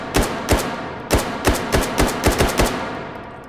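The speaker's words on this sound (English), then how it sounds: "Pull us onto semi, take some shots." Semi-automatic gunshots in the virtual-reality game H3VR, a weapon fitted with an MT1 optic firing about ten sharp, loud cracks at irregular intervals with short decays, no talking.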